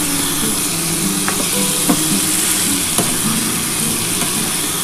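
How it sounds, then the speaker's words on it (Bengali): Egg, potato and ridge gourd frying with spice paste in a pan, a steady close sizzle with occasional scraping stirs and small clinks of a spatula, no talking. "এবার এই মশলাটা দিয়ে খুব ভালো করে কষিয়ে নিতে হবে।"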